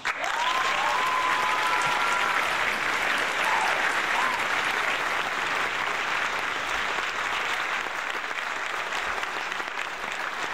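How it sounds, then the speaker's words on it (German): Sustained crowd applause, a dense and even wash of clapping at constant loudness for about ten seconds, with a brief whistle near the start and no speech. "Jawohl. Applaus."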